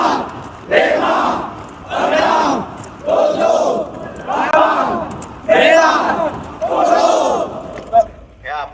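Police trainees at a night roll call at a police training center shout loudly in unison, a massed chorus of voices in repeated, rhythmic bursts with short pauses between.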